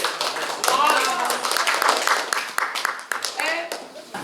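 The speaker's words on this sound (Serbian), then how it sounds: "Molim vas jedan aplauz i za drugari iz Melnice." Audience applause at a children's school competition and awards event in Petrovac na Mlavi, dense continuous clapping from a crowd that swells and carries on steadily for several seconds, with a voice talking over it.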